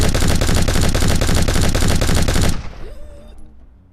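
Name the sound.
aircraft cannon button firing sound effect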